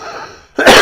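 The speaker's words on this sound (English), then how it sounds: "I'm going to cough." A single short, loud cough bursts out close to the microphone right after a quiet, faint murmur of room tone.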